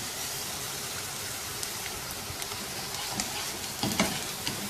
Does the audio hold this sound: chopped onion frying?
yes